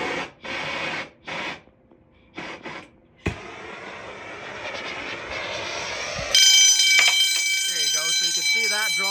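Fire alarm sounding off in a heat detector demo system, a loud steady high-pitched tone that kicks in abruptly after speech and a hiss of heating, continuing with a person talking underneath.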